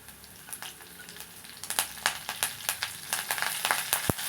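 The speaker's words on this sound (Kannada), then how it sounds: "ಈಗ ನಾನಿಲ್ಲಿ ಕರಿಬೇವನ್ನು ಹಾಕ್ತಾ ಇದ್ದೀನಿ." Curry leaves crackle and spit in hot oil for dal tadka, a fast run of sharp pops over a soft, steady sizzle, close and moderately loud with no talking.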